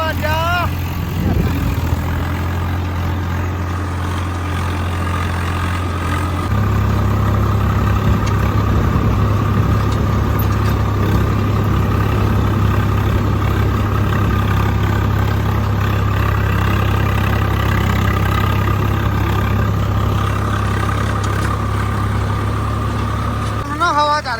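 A steady, low engine rumble from an idling Swaraj 855 tractor runs throughout, growing slightly heavier partway through, with people talking over it.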